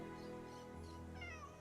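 A cat meows in the video game AFK Journey, a short drawn-out call heard over a steady bed of game music and ambience.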